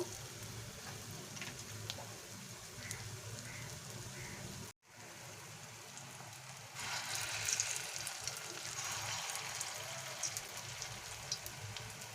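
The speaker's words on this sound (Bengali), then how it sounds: "এইভাবে সবগুলো বড়া আমি ভেজে নেব" Horse gram dal fritters (bora) fry in hot oil with a soft, steady hiss and crackle, briefly cut off by a gap, then returning slightly louder and denser; no speech.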